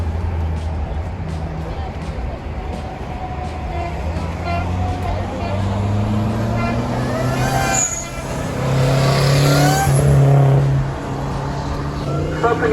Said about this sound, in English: It was cool to see this little Dodge Daytona tearing it up.